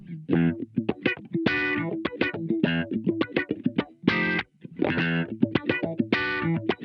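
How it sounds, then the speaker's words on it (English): Electric guitar played through a Blackstar ID:Core V4 amp with auto wah, delay and reverb, giving funky, rhythmic plucked notes and quick choppy stabs with sweeping filtered tone, loud and alone throughout. "I'm just going to flick on to that auto wah sound, my delay and reverb"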